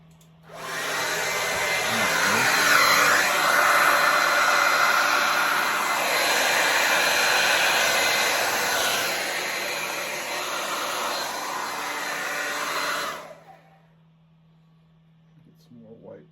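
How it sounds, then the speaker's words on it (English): A steady, loud whoosh from an air blower pushes fluid acrylic paint across a Dutch pour, running unbroken for about twelve seconds before cutting off abruptly. "Blower going."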